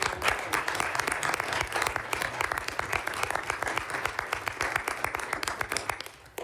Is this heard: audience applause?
yes